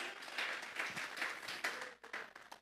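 A church congregation at a Sunday service claps together in sustained applause, dense and fairly loud, thinning briefly near the end before picking up again.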